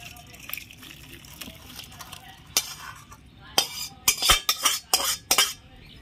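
A pot of rohu fish curry with ridge gourd and potato is lifted off the stove, with metal clinks and knocks that grow louder and sharper toward the end after some quieter stirring and scraping.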